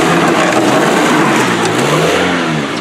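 A stock derby car engine drives forward, a loud, close mid-pitched motor holding a steady rev with a slight rise in pitch over a few seconds.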